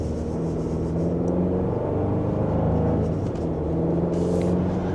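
A 2026 Chevrolet Colorado ZR2 pickup pulls away gently in normal drive mode, its engine a steady low rumble and whir rising only slightly, heard continuously from inside the cab with no talking.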